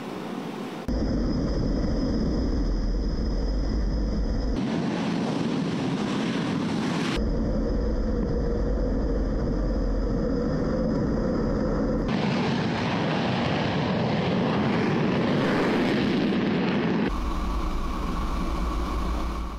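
Loud, sustained jet engine roar, steady and close with abrupt shifts in tone, as a Royal Malaysian Air Force Su-30MKM or F/A-18D Hornet military jet spools up and takes off.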